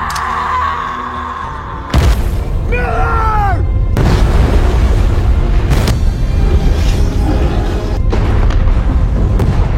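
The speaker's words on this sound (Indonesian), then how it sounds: "Miller pada akhirnya meledakkan area tersebut." A film scene has an area blown up, with loud, deep booming blasts at regular intervals over a heavy, continuous rumble. A voice may be present under the din.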